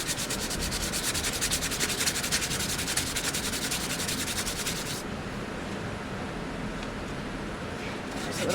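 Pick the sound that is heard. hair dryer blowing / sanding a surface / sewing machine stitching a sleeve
sanding a surface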